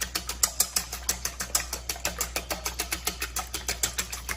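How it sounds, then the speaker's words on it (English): Eggs whisked in a bowl, a fast steady series of close clicking taps, roughly six per second, with a low hum underneath. "we'll go ahead and whisk those up"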